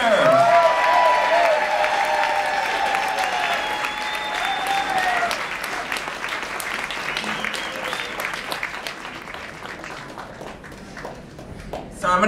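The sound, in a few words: audience applause for storyteller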